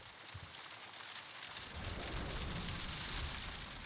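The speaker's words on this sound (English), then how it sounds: "Be quiet, Watson. I'm listening to the rain" Steady rain with rolling thunder in the Sherlock Holmes: Crimes & Punishments video game, a constant hiss of rainfall that swells as a low thunder rumble builds partway through, with no voices.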